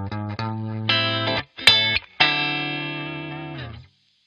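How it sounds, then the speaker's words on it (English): Electric guitar played through a GarageBand amp simulation with the bass and middle knobs at zero, giving a thin, tinny tone; a few short plucked notes and chords, then one sustained ringing chord that fades out, with no talking. "If now we've set the bass and middle knobs to zero and leave only the high frequency,"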